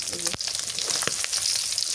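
Large fish pieces fry crisply in a hot pan in a village kitchen, a steady close sizzle with a few sharp pops and crackles and no talking.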